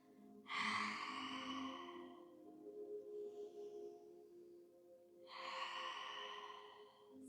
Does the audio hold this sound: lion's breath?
yes